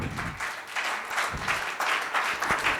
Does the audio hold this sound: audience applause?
yes